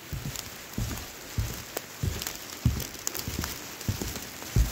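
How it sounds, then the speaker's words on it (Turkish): Heavy rain pours steadily over the Patara ancient theatre in Turkey, near its damaged wooden platform, a dense continuous hiss with scattered close drops and patters striking surfaces. "Yağmur iyice şiddetlendi."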